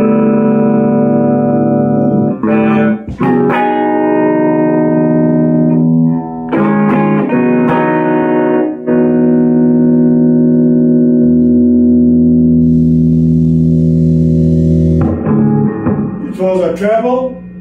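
An electric guitar played through a Soundtronics 120 watt amp rings out in loud sustained notes and chords with echoey effects, a few sharp plucked attacks breaking the long held tones, with no one talking.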